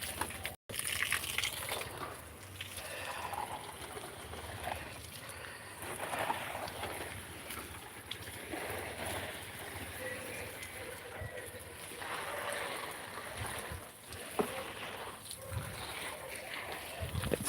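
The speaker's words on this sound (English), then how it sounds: "the other one holding the hose and watering the garden" A garden hose sprays water over a home garden, a steady broadband hiss and splatter that runs the whole time, close and fairly even, with small handling bumps.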